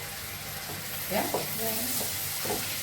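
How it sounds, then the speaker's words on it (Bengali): Onions frying in a pan with a steady background sizzle, broken up by a few stirring scrapes and clatters near the middle of the clip. "পেঁয়াজ ভুজে নিচ্ছি"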